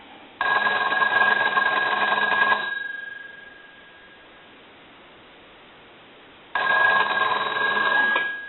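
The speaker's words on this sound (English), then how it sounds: "We're going to ring it one more time." A loud electromechanical bell on an old Stromberg Carlson hotel telephone rings in two long bursts separated by a few seconds of near silence.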